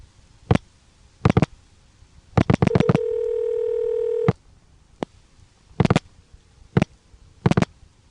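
Touch-tone dialing on an ITT Pentaconta crossbar switch: short bursts of tone pairs in clusters, broken by a steady beep lasting over a second, with faint clicks between them, close and clear with no talk.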